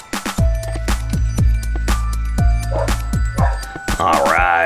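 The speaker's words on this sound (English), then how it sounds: "The neighbor's dog is out there barking" A neighbor's dog barks repeatedly outdoors, a steady run of sharp, fairly loud barks spread across the stretch, followed by a higher whining or yipping tone at the end.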